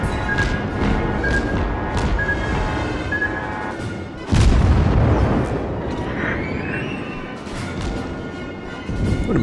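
Guns fire during a video game battle. Heavy booming blasts and rumbling sound under a dense, continuous wash of combat noise, with one especially loud, deep impact near the middle.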